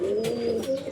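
A pigeon coos in a soft, steady low call lasting under a second, close and clear, with faint higher chirps above it and no talking.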